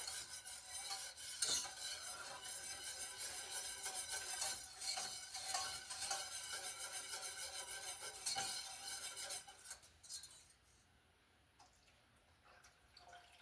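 A utensil stirs through cream sauce to break up flour lumps for potatoes au gratin, scraping and swishing steadily and close by before it suddenly quiets near the end.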